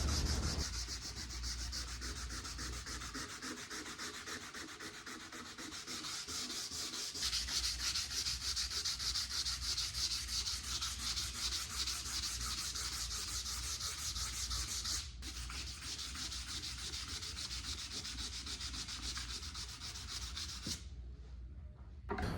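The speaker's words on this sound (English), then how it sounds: "I'm lightly sanding the veneer on top in the direction of the wood grain." Steady hand sanding on wood veneer along the grain of a vintage coffee table, a continuous rhythmic rasping scrub that runs for about twenty seconds before briefly stopping near the end.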